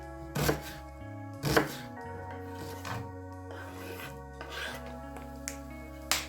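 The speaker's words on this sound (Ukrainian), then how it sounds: "Моркву та цибулю нарізаємо дрібними шматочками." Knife blade striking a cutting board in a few sharp chops while cutting carrots and onions, irregularly spaced, with quieter rasping cuts in between; close up, no talking.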